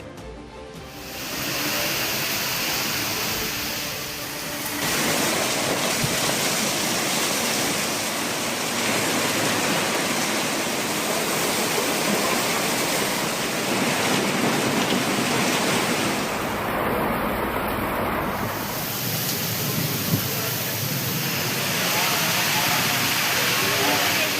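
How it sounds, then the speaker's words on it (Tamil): Heavy rain with strong gusty winds in Tiruvarur and Mayiladuthurai districts, Tamil Nadu: a dense, steady roar of downpour lasting throughout, loud and continuous with no clear breaks. "சில இடங்களில் சூறைக்காற்றுடன் பெய்த மழை."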